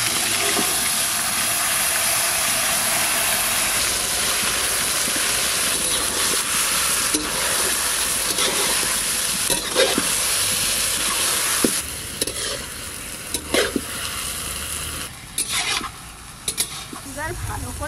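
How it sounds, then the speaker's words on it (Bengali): Mutton pieces added bit by bit to hot oil with dried red chilli and whole garam masala, giving a steady loud sizzle with stirring scrapes and clatters, faint voices in the background. "শুকনো লঙ্কা, গোটা গরম মশলা, এবার মাংসটা দিয়ে দিচ্ছি, অল্প অল্প করে দিই।"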